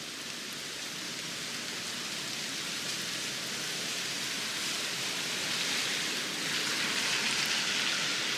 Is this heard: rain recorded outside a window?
yes